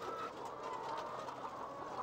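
Caged hens cluck and murmur together in a steady, moderately distant chorus of soft calls, with no talking.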